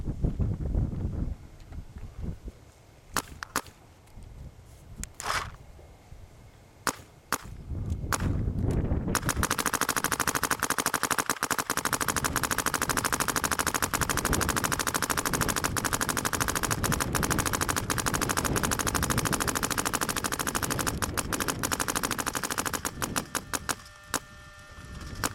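A Dye DM10 paintball marker fired in semi-auto, first a handful of scattered sharp pops, then a long dense stream of rapid shots with hissing air for over ten seconds, loud and close, easing off to a few final shots.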